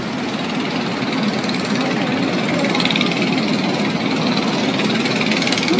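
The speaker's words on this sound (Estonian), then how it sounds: "Kastmisauto teeb nii palju häält." A street watering truck's engine in Vietnam rumbles steadily and loudly close by, a continuous mid-low drone with traffic-like noise and no breaks.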